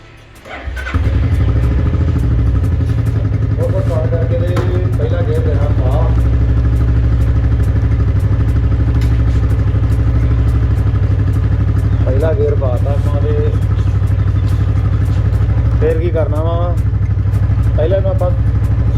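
A motorcycle engine runs steadily and loudly throughout, with a low rumble, brief clatter, and occasional voices speaking over it.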